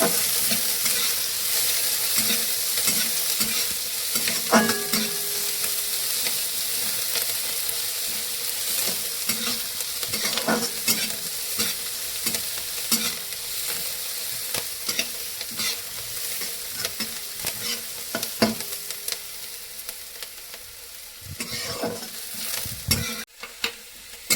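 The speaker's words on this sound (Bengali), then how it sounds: "ভাজা ভাজা করে নেবো একটু।" Chopped onions sizzle steadily in a pan, stirred with repeated scraping and tapping strokes of a spatula over a constant hiss, with no voices present.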